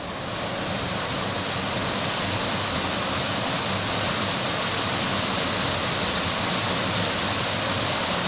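Roaring, rushing floodwater in a river swollen by heavy rain fills the whole stretch, a dense, steady torrent of churning noise with no pauses.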